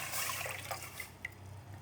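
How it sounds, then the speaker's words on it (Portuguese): Water and milk are poured into a cooking pot, giving a steady, soft, hissing liquid stream with a few faint drips and clinks and no talk. "tô colocando aqui a água, o leite"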